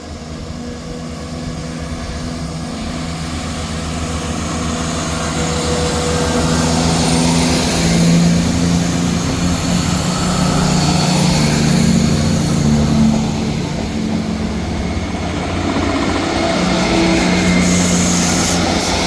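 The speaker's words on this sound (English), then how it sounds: "Departing out now is the 1545 ScotRail service from Leven to Edinburgh Waverley" A ScotRail diesel service pulls out of Dalmeny station, its engine drone rising and holding steady, loud and close, with no talk over it.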